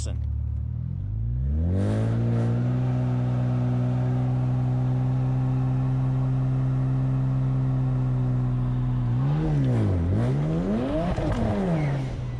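Car engine with an installed X delete revving up and holding high, then tires breaking loose with rising and falling engine pitch near the end; loud, close and steady.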